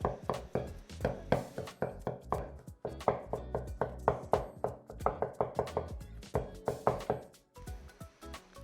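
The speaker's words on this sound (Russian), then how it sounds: "Грибы, которые мы с вами нарезали кубиками, дополнительно еще хорошо измельчаем" Diced mushrooms are minced finely with a knife on a cutting board: rapid, rhythmic chops close up, in quick bursts with brief pauses, and no talking.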